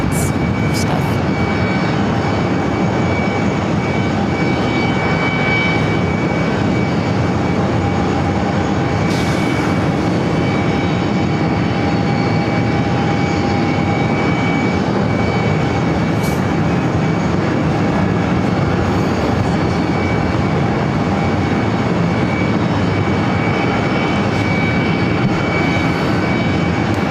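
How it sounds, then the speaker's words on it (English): An Airbus A220-300 airliner approaching JFK gives a steady, continuous roar with a faint whine, holding at an even level throughout with no talk over it. "One of those beautiful Airbus A220-300s coming at us here."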